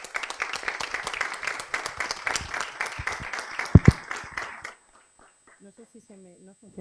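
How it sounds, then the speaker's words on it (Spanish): An audience at a sports psychology conference session applauds the panel with a dense burst of clapping and a few sharp thumps. The clapping cuts off abruptly, and then a voice speaks in near silence. "Démosles un aplauso a ella y a su mesa."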